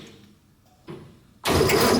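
An old military truck, not started in over 30 years, gives a brief mechanical clunk and then abruptly roars into a loud, rough running engine close by.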